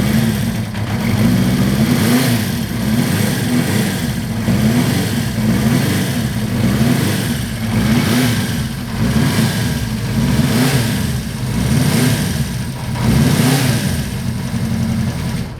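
A 1976 Honda CB400/4 motorcycle engine revs repeatedly, loud and close, with steady rhythmic swells of throttle over a continuous idle-like drone and no talking.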